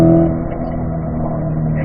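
A car on a race track picks up speed with a steady, droning engine note, close and continuous through the short stretch.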